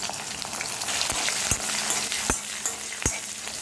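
Curry leaves crackling in hot oil with fenugreek and garlic for a drumstick kuzhambu, a loud close hiss broken by sharp pops and a few stirring taps.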